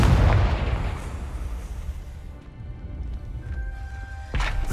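A fire spell, Confringo, bursts with a heavy explosive boom in the Hogwarts Legacy video game. A loud blast opens, trailing off into a rumbling decay, and a second sharp burst comes near the end.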